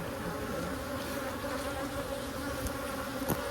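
A dense, steady hum of many honey bees from a newly installed package colony during a hive inspection, continuous and close, with a few sharper passes of bees flying near.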